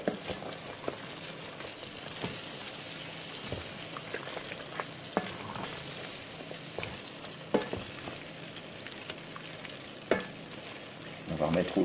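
Mushrooms and lardons frying and being stirred together in a pot for beef bourguignon, a continuous crackling sizzle broken by repeated scraping strokes of a spoon against the pot, close and steady, with no voices.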